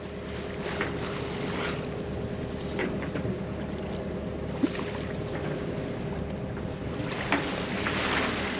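A sailboat's engine drones steadily beneath gusts of wind noise, with occasional water slaps against the hull.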